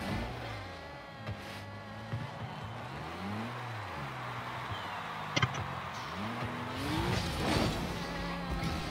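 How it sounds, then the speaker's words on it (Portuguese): Rocket League cars with thin, whiny engines that rise and fall in pitch like a buzzing mosquito, revving repeatedly through the match alongside a few sharp impact clicks, with no voices. "Mano, o som do teu carro é irritante"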